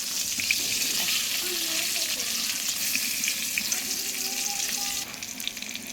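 Pointed gourd pieces seasoned with salt and turmeric fry in oil, giving a close, steady sizzle with bursts of spitting and stirring. The sizzle eases slightly toward the end.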